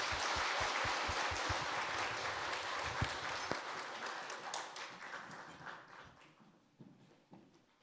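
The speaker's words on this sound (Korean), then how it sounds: "우리 축하의 박수 한번 하겠습니다." A church congregation claps to celebrate a student's baptism during a Sunday worship service. The crowded applause starts full, thins after a few seconds into scattered individual claps and fades away.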